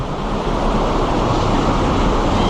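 Choppy sea waves wash in at a New Zealand shore after spearfishing, a loud continuous surging rush with wind buffeting close to the microphone.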